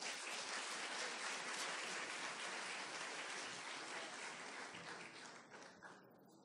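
An audience at an academic talk on intellectual property and innovation management applauds, a faint, dense wash of clapping that stays even before thinning out near the end.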